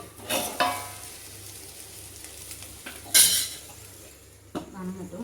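A spoon stirring food in a pan to keep it from sticking, with a few scraping strokes and clinks against the metal and a soft sizzle between them, close by.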